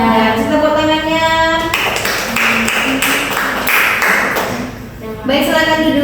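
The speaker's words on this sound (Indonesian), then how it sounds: "Tepuk tangannya." Classroom applause rises as a few seconds of clapping in the middle, with children's voices before and after.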